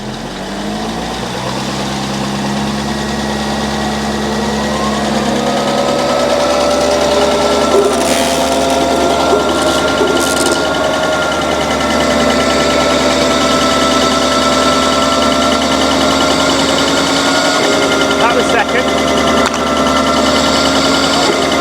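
A Chieftain tank's TN12 gearbox on a test run, with a loud, steady engine drone and whining gear tones that shift pitch early and then hold for a long continuous stretch.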